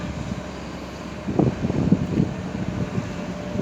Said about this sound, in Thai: วันนี้ลมค่อนข้างแรงครับ